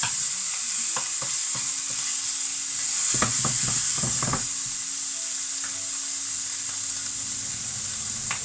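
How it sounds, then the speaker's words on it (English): Beef and vegetables sizzle steadily in hot chili oil while a utensil stirs them, with a burst of clattering scrapes against the pan over a constant close frying hiss. "So I'll just give that a bit of a stir around"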